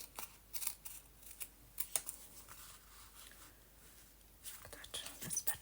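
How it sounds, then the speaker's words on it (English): Scissors snip through journal paper to trim a page to size, a run of quick close cuts and rustles, then a quiet pause before more snipping, with a soft whisper-like voice underneath. "so let's cut off a little piece."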